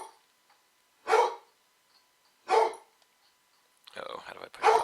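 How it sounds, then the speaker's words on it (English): Two dogs bark indoors, with two separate sharp barks spaced apart followed by a rougher burst of barking and yipping at the end, fairly close and loud against an otherwise quiet room. "Both of the dogs are making noises now."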